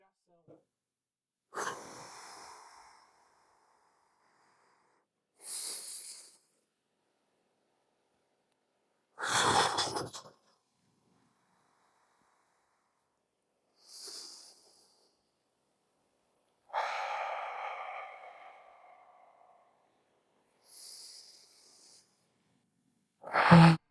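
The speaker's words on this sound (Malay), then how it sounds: "Kita akan ikutkan ini dengan pernafasan." Slow, relaxed breaths during a guided relaxation exercise for stress and back pain, about seven long inhales and exhales separated by quiet gaps. The breaths are close and soft, and some blend into a breathy voice.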